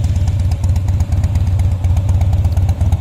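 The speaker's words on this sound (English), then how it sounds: "Gonna take a little motorcycle ride." A 2007 Harley-Davidson Softail Custom motorcycle idles up close, its V-twin engine producing a loud, loping, uneven low rumble that pulses steadily throughout with no talking.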